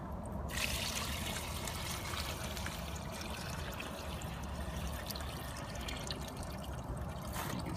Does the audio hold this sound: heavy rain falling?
no